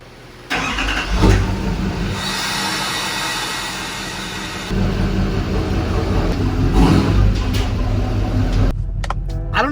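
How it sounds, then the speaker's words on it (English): Diesel truck with a 5-inch DPF-back exhaust, louder than factory, idling steadily up close with a continuous low rumble that cuts out near the end. "yes, it has a DPF back exhaust. So she is a little louder than factory, a 5-inch one to be exact."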